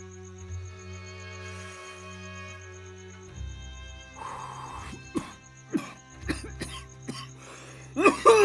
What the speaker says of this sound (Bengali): চুরুট ধরিয়ে টানতে গিয়ে কাশতে আরম্ভ করে দেয়।